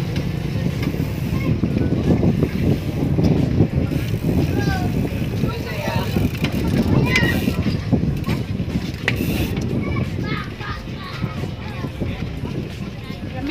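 Strong wind buffets an outdoor microphone in a steady, loud roar lasting throughout, with faint voices occasionally under it.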